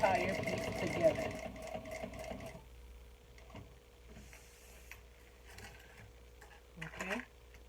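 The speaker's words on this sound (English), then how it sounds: "I'm stitching the entire piece together." Electric sewing machine stitching a modified beauty makeup bag together, a fast mechanical whirring burst at the start, then quieter intermittent stitching with soft handling noises and a brief run near the end.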